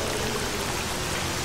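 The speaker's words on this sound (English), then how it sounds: "But it's raining and I can hear the wind" Steady rain patters with a windy hiss in the video game S.T.A.L.K.E.R. Call of Pripyat, a dense, even wash of sound with no voices.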